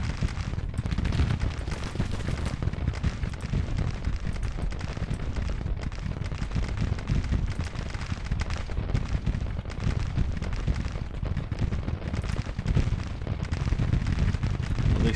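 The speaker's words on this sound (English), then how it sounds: "At least Standwadi's firing now" Continuous massed musket fire and battle din from troops in the Grand Tactician Civil War strategy game, a loud, dense crackle of volleys rolling without pause across the whole stretch, with no talking.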